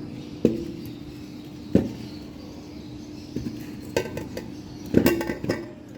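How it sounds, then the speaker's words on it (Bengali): Sweet potato pieces are laid into a cooking pot, giving a few scattered clunks and clinks against the pot, spaced out irregularly, then a quicker cluster of knocks near the end, close and alone. "এই হাঁড়ির মধ্যে জাস্ট আমি আলুগুলো বিছিয়ে দিলাম।"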